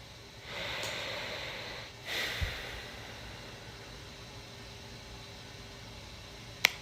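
Slow breathing during a meditation: one long airy breath is followed by a shorter second one, then a quiet hiss of room tone with a soft click near the end.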